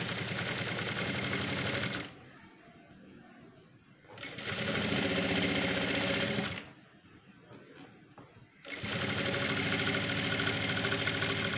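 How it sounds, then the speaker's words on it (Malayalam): A sewing machine stitches a cross-cut blouse in three loud, steady runs of motor whir and needle clatter, broken by two brief pauses. "ഈ എൻഡ് കൂടി ഒരു സ്റ്റിച്ച് അടിച്ച് വിടുക"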